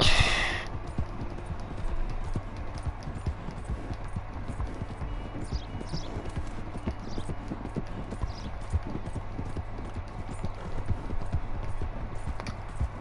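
Horse hooves in Red Dead Redemption 2 gallop in a steady, continuous clip-clop rhythm, close and even throughout, with a short burst of noise at the very start.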